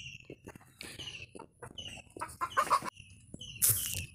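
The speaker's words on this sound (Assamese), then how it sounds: "মুৰ্গীকেইটাক খেদিবলৈ দৌৰ মাৰি আহি গ'ল।" Several chickens cluck and squawk in bursts as a young monkey chases them, with a sharp loud cry near the end over rustling background noise.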